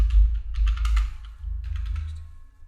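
Computer keyboard keys are pressed in two short bursts of clicks, close and crisp, with nobody talking.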